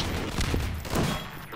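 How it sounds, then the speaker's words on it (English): Rapid burst of overpowered gunfire in a video game, a dense, loud fusillade of shots packed tightly together. "It's like an overpowered gun"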